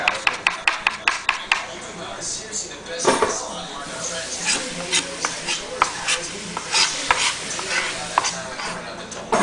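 Shallots and garlic sauté for a shrimp bisque, a soft sizzle under sharp spoon taps and scraping stirs against the pot, with voices talking nearby.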